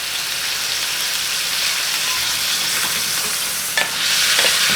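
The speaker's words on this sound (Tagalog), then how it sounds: "Masarap igisa ang baka sa patis." Beef sautéing in fish sauce in a pan gives a loud, close, continuous sizzle like steady rain, with a brief stir or scrape near the end.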